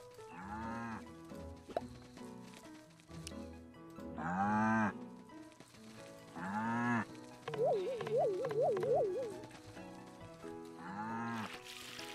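Cows in the farming video game Staxel let out several low, drawn-out moos spaced through the stretch, over a soft game background with light plopping sounds.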